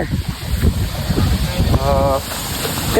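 Wind gusts and buffets the microphone on a beach in Kollam, Kerala. The rushing noise is steady and broadband, with surf beneath it and a brief tonal sound partway through.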